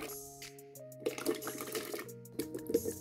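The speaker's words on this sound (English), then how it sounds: "So I am going to add all my fruits to a blender with 1 cup orange juice and 1" Orange juice and water poured into a blender with fruit for a smoothie, a soft splashing liquid stream with bubbly gurgles, quiet and close, with a faint background tone underneath.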